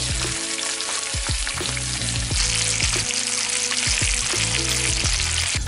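Rainbow trout fry in a pan with a loud, constant sizzle and crackle close by, broken now and then by soft knocks from the fish or utensils, and no voices.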